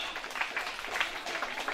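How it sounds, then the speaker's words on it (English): Ceremony audience applauding the newly elected health minister at a swearing-in and handover event, a steady patter of many hands clapping, moderately distant and sustained. "A round of applause for her."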